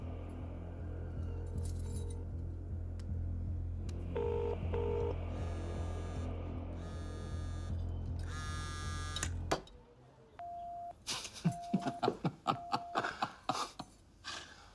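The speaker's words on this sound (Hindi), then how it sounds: "चल फोन लगा उसे।" A phone being dialed on speakerphone, with a series of distinct beeping tones followed by a run of separate clicks and tones, heard clearly over a steady low hum.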